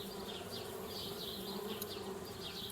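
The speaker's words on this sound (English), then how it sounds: "Darn bees, trying to move into our tree house." Bees buzzing around a tree house in the adventure game Anna's Quest, a continuous insect drone with wavering higher whines passing through, steady and close with no speech.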